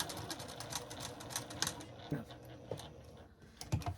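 A sewing machine runs a short back stitch along a seam on a lined girls' dress, giving quick mechanical stitching bursts with a few clicks and pauses, close and moderately loud.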